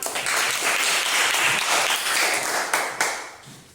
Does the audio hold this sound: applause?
yes